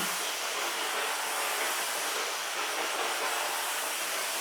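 Black and Decker FSMH13E5 steam mop running on water alone, a steady, close, fairly loud hiss of steam with a faint rough flutter, no talking.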